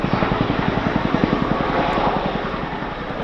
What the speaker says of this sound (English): All of us on 18 Squadron are really proud to be bringing you the 2019 Chinook display this year.